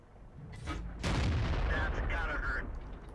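A tank gun fires in World of Tanks, a single heavy boom with a rolling tail, set against game engine hum.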